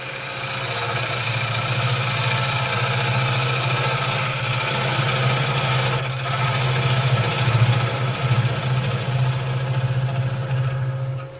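A wood lathe runs with a steady motor hum while a skew chisel works the spinning wood, giving a continuous, fairly loud cutting drone with slight fluctuations and no talk.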